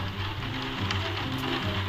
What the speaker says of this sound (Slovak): Ozaj prší